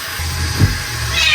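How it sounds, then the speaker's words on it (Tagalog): A single short cat meow, fairly close, with steady background hiss around it and no talking. "Meow!"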